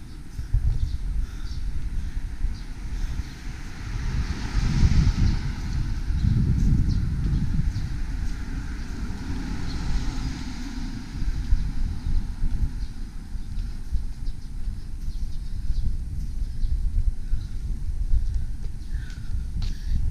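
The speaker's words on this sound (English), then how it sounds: "It's quite windy today and cold." Steady cold autumn wind in a residential district of Kamagaya, Chiba, Japan, roars and buffets the microphone, a low rumbling rush that swells and eases throughout, with no voices.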